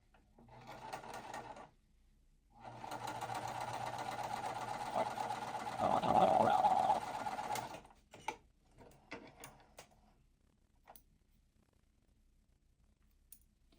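A sewing machine stitches quilt fabric pieces in a steady mechanical whir for several seconds, rising briefly in speed, then stopping, with a short start before and small handling clicks after.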